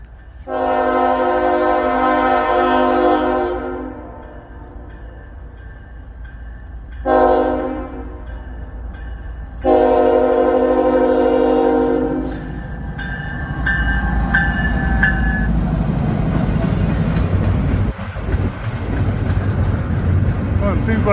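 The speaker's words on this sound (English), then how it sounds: "second Norfolk Southern train getting ready to cross. Looks like another intermodal." A Norfolk Southern intermodal freight train sounds its horn in two long blasts split by a short toot, then rumbles past with rising rail and wheel noise, loud and close.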